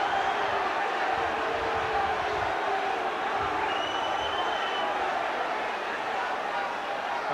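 Spectators at a Hull KR versus Wigan rugby league match at Craven Park roar steadily at a referee's decision, a dense, sustained crowd noise with no break or lull across the whole stretch.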